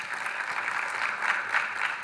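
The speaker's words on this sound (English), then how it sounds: "Can we give him a round of applause for making partner?" Audience applause at a startup accelerator pitch event, a steady wash of clapping from a crowd that stays even and moderately loud for the whole moment, no talking over it.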